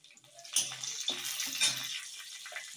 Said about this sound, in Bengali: হালকা উষ্ণ গরম জল দিয়ে দিচ্ছি